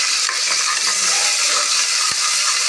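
Curry leaves dropped into hot oil with cinnamon and cloves for tomato rice give a loud, close, steady sizzle and crackle that runs unbroken throughout, with no talking.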